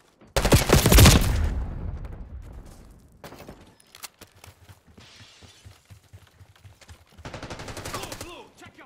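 Gunfire and shattering crash out in the Call of Duty video game, opening with a loud close burst that decays into scattered shots and debris, then further rattling fire later, with faint game voices.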